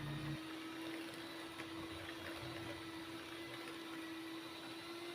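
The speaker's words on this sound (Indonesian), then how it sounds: "Kemudian di mixer menggunakan kecepatan yang rendah ke yang tinggi" An electric mixer beats steamed chocolate brownie batter with a steady, even whir and a constant motor hum, running unbroken and fairly quiet throughout.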